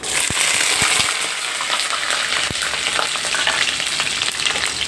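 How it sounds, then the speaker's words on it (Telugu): Garlic hits hot oil in a pan on a stove while ajwain rasam is being cooked, giving a loud, steady, close sizzle with a few clinks of the pan. "ఆయిల్ అయితే స్టవ్ అయితే వెలిగించాను. ఇప్పుడు మనము వెల్లుల్లి వేసుకుందాం."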